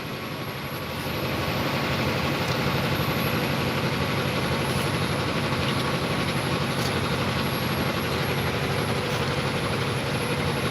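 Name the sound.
train on the railway track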